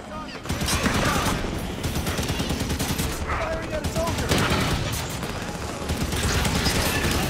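Sustained gunfire in the Halo 5: Guardians video game, dense continuous bursts of shots and impacts with crashes, loud and close throughout.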